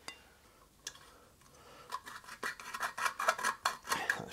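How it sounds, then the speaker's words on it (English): An exhaust bolt on an Interceptor 650 motorcycle is loosened with a tool, making a few isolated clicks and then a quickening run of close metallic ticks that grow louder. "So once that's loosened, we can take the other main bolt off and slide it out of the way completely."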